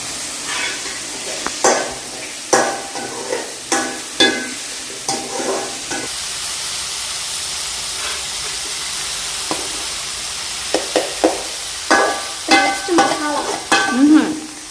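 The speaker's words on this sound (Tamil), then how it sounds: "வெங்காயம் தக்காளி நல்லா வதங்கணும்." Onion and tomato sautéing in a hot pan, a steady sizzle broken by repeated scraping and stirring strokes of a spatula, close and fairly loud.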